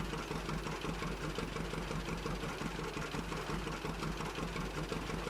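A John Deere tractor engine pulling a planter through soybean fields in Farming Simulator, Chippewa County map: a steady, loud mid-low engine drone with a faint knocking pulse and no pauses.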